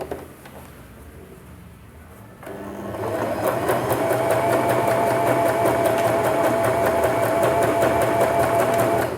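A Janome 3022 sewing machine stitching fabric starts after a quiet moment and runs at a fast, even rhythm with a steady mechanical whir, close and loud, without talking over it.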